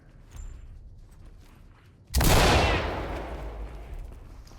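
Flashbang grenade detonating in the tactical shooter Ready or Not: a sudden loud close bang after a quiet stretch, followed by a long hissing, ringing decay that slowly fades.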